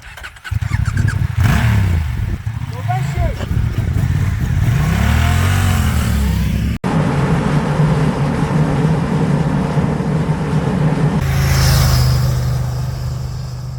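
Naked streetfighter motorcycles accelerating away down a road in South Africa: loud, close engine roar rising through gears, with sweeping rev climbs and a shift to a steadier drone, no voices.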